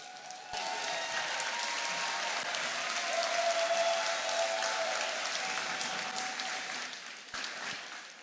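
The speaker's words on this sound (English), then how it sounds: "let's give them a round of applause" An indoor audience at a FIRST robotics district competition in Texas claps for the Dean's List nominees, breaking into a sudden dense round of applause that holds steady for several seconds and then cuts off abruptly.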